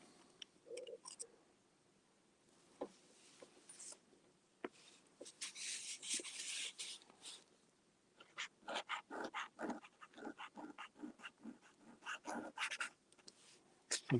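A wet-nib pen lays ink on paper in quiet, close, scratchy strokes that come in short irregular bursts, separated by pauses and growing busier toward the end.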